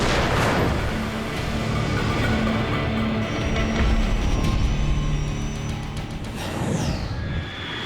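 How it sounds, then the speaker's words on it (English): Dense, rumbling bursts of gunfire blend into a noisy, continuous barrage, with booming low thuds and a whooshing sweep near the end. "a routine call sends 2 policemen into a barrage of gunfire"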